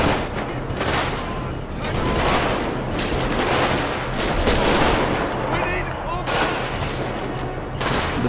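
Heavy automatic gunfire in a GTA 5 zombie mod firefight at a military fortress, with dense, continuous rattling volleys and repeated shot bursts throughout, under game ambience with no speech.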